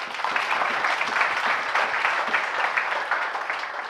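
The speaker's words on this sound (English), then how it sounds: "I think you should really clap for her." An audience at a Sports Council talk gives dense, sustained applause for about four seconds. The clapping fills the room evenly, with no voices over it.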